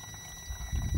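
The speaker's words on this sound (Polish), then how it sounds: "A ja biorę się za nalewanie płynu." Coolant pours steadily into a Kia or Hyundai car's coolant reservoir, a low gurgling flow that grows fuller and louder toward the end, with no voices.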